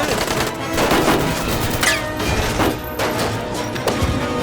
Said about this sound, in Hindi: ओए गोली चला रहे हैं ये लोग तो।